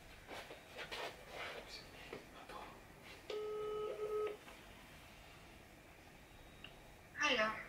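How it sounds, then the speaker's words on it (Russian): A phone call is placed: short electronic tones sound briefly, followed by a steady ringing tone of about a second, set among light handling noise and faint room sounds. "давай сначала я позвоню"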